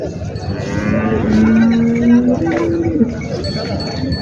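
Cows at a Parbhani cattle market give a long, loud, close moo over the steady hum of a crowded livestock market.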